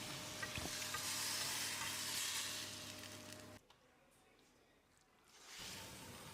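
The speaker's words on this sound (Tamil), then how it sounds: "இப்போ நம்ம வேக வச்சிருந்த குடலை தண்ணியோடைய சேர்த்துடலாம்." Masala fries with a loud, continuous sizzle until boiled goat intestines and their cooking water go into the pan. The noise drops sharply, then a softer bubbling sizzle builds back up.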